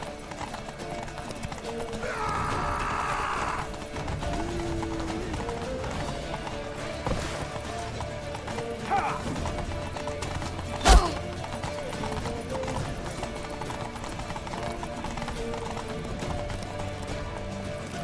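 A horse gallops hard in The Witcher 3: Wild Hunt, steady rapid hoofbeats running throughout with a brief whinny and scattered game sounds layered over them.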